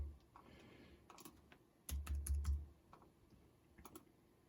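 Someone types a password on a computer keyboard while setting up Windows Embedded POSReady 2009: scattered, crisp key clicks nearby, with a short, faster cluster of strokes partway through against quiet room hum.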